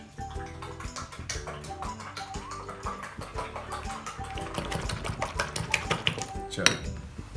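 Eggs with black pepper being beaten in a bowl, a rapid steady clatter of a utensil knocking against the bowl, close and continuous for several seconds.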